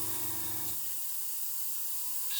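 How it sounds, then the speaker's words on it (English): An aerosol spray paint can spraying yellow paint onto a stencil lets out a continuous airy hiss that holds steady and close for the whole clip, after a brief low rumble at the start. "spray in some yellow, just to get a yellow colour in there"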